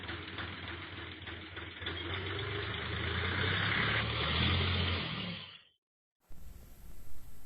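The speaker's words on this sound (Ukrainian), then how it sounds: "Вліз я трактором сюди." A tractor engine idles close by with a low chugging rumble, then cuts out abruptly into brief silence before a fainter rumbling resumes.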